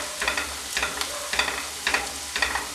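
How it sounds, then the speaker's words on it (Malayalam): Chili flakes fry in a pan and are stirred in repeated strokes, each stir bringing a burst of scraping sizzle over a low, steady hiss. The strokes fall in a regular rhythm at close range, with no talking. "ഇപ്പം ഇതിലേക്ക് ഇതേപോലെ 1 ടേബിൾ സ്പൂൺ ചില്ലി ഫ്ലേക്സാണ് ചേർത്ത് കൊടുക്കുന്നത്."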